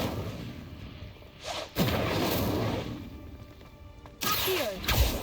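Incendio fire spell bursting out in Hogwarts Legacy, a sharp loud whoosh-burst followed by sustained crackling roar, then a second blast near the end, all close and without speech.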